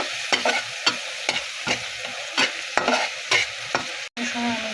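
Ground spices stirred into frying onions in a pan: a rhythmic series of close, distinct scraping strokes over a soft sizzle, roughly two per second, with a brief cut near the end and no talk.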